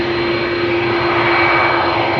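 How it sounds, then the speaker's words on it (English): Airbus A330-200 jet, 17 years old, roaring during takeoff on Schiphol's Polderbaan runway, a loud, steady broadband engine rumble with a sustained whine, close and continuous throughout. "A330-200, flight 787 to Sint Maarten."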